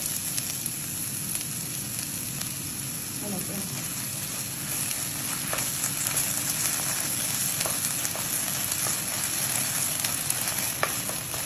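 Tomato paste added to frying ginger and garlic sizzles in a steady hiss, with occasional stirring clicks and a person talking over it.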